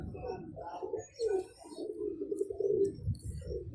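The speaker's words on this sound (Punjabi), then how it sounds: "ਮੈਂ ਨਾ ਬਾਜ਼ਾਰੋਂ ਖਰੀਦ ਕੇ ਲਿਆਇਆ, ਬੜਾ ਖੂਬਸੂਰਤ ਕਬੂਤਰ" Pigeon bought from a market cooing in soft, low repeated phrases, close by, with a few faint chirps above and no talk.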